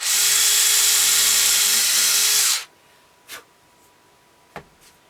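A power drill whines steadily as it bores down through the wooden body of a ventriloquist dummy, loud and close for about two and a half seconds, then cuts off, leaving a couple of faint clicks and knocks.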